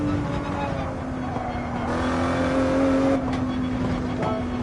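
A Dodge Viper race car's engine drones at steady high revs through a corner in Gran Turismo 7 at Daytona, with tyre squeal and a brief throttle change, the engine note continuous and close throughout.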